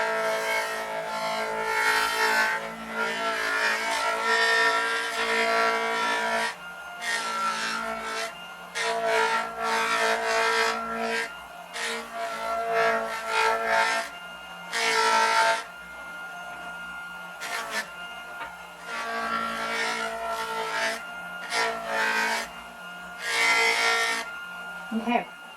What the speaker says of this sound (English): you'll see that I'm changing the direction as I polish this. That just helps to remove all scratches.